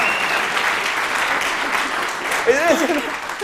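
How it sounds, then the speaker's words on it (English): Audience applauding and cheering after a magic card trick at a London stage show, loud sustained clapping with whoops, and a voice breaks in near the end. "And the crowd goes wild."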